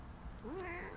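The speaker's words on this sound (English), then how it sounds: "so you might hear her meowing" A single short cat meow rises in pitch, close but soft, heard alone over faint background hum.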